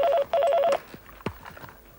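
A telephone rings in two quick electronic warbling bursts, loud and close, then stops and leaves only faint room noise and small knocks.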